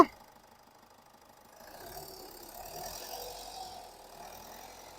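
A Toyota Etios VD diesel engine quietly rises from near-silence into a soft, steady rev after a couple of seconds, holding a low, smooth drone before easing slightly toward the end.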